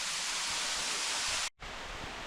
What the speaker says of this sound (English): because of the rain, you can really see a waterfall